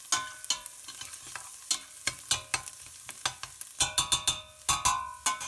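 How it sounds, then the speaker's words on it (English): Diced garlic stirred into simmering onions for Szegediner goulash: a close series of scraping, clacking spoon strokes against the pan over a soft sizzle, with no talking. "And then you add the diced garlic. Add it,"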